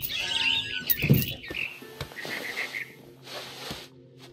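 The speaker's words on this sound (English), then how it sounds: "Then I heard chirping outside my window. It was a barn swallow going back to her nest." Barn swallow chirping in a What Remains of Edith Finch game scene, a few bright, brief chirps near the start over a soft game soundscape, with a low thud around the middle.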